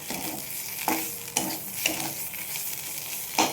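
Mustard oil sizzles over mashed jackfruit leaf paste in a pan, a close, steady frying hiss broken by several sharp stirring scrapes at irregular intervals, with no voices.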